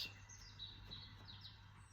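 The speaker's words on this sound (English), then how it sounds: "You hear the bird song in the background." Faint recorded birdsong from Wicklow, Ireland, a few short high chirps and trills over a low steady hum, with no voices.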